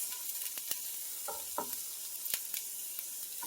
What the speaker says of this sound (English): now we're going to stir together and cook for another 3 to 4 minutes